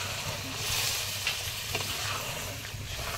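Curry bubbles and sizzles in a pan just after water is added, giving a brief, even, fairly quiet hiss with a faint scrape or two.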